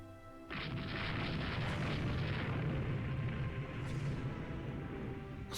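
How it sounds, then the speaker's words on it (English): A torpedo strike on a ship in the naval strategy game Rule The Waves 2 sets off a sudden deep boom that rolls into a sustained rumbling roar, loud and steady for several seconds before easing slightly. "he gets hit by a torpedo"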